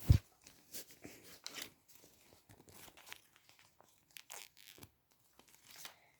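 Faint, close crinkling and tearing of thin foil packets from Kinder Harry Potter sweets in short bursts, with quiet rustles between them and no voices.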